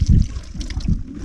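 Water runs and splashes from a tap or outlet close by, an irregular gurgling trickle with small surges over a little over a second.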